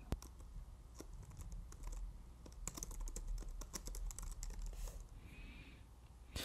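Keys clatter on a computer keyboard as a file name is entered in an e-commerce export screen, a quick irregular run of close, crisp keystrokes with brief pauses, heard alone.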